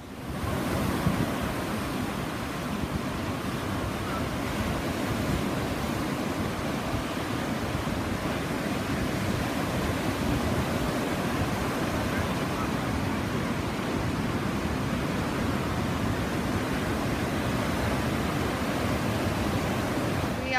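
Steady roar of waves on a rocky shoreline between Gwenver and Sennen beaches in Cornwall, continuous broadband surf with some wind noise, loud and unbroken throughout with no talking.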